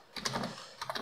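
A password is typed on a computer keyboard as two short bursts of soft, close key clicks separated by a brief pause, faint and with no voices.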